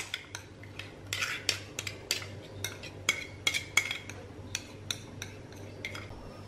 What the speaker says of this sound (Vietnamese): mình cho vô cái chỗ bột năng này để mình đánh cho cái bột năng này nó hòa tan nha